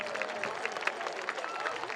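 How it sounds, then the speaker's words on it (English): A stadium crowd at an RPI football game against St. Lawrence University applauds John Trombley after his field goal attempt, a dense, even wash of clapping and crowd noise that stays steady for two seconds. "Let's have a round of applause for John Trombley."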